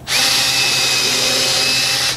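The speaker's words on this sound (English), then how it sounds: "first things first, we're gonna drill" A power drill boring holes into wood for a budget sawhorse build, a loud steady whine held for about two seconds with a sharp start and stop.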